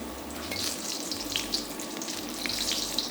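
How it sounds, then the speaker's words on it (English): Ginger sizzling in hot oil in a wok, a steady close crackle and hiss with bright spattering pops throughout, no voices. "Fry the ginger till they are fragrant."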